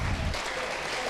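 Audience applause at a Hindi poetry recitation about Maharana Pratap's horse Chetak, a dense steady clatter of clapping filling the short moment with no voice on top.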